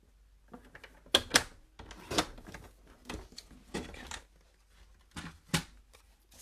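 Designer series paper being trimmed on a paper trimmer for a card, a few short crisp slicing and sliding strokes, close and quiet, with soft handling rustles between them.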